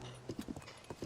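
A horse in The Legend of Zelda: Tears of the Kingdom clip-clops along in quick, rhythmic hoofbeats, fairly quiet and close in a game setting.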